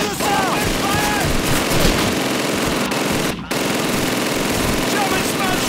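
Heavy, continuous gunfire in Call of Duty 2 during a British mission at the battle of Caen, with rapid machine-gun bursts and overlapping rifle shots, loud and close, under shouted commands and voices.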